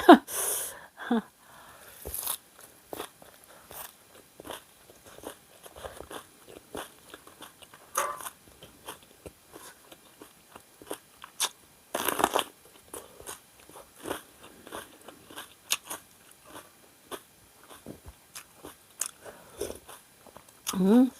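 Close crunchy bites and chewing of spicy squid larb with crisp fresh vegetables come in irregular bursts, with brief quiet gaps and occasional murmured voice between mouthfuls.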